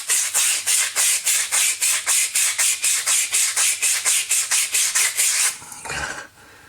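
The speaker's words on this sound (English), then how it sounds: "Clean your die again." Coin ring doming die being cleaned, a steady run of about twenty rapid, even rubbing strokes, close and fairly loud, stopping near the end with a brief scrape and a short fade.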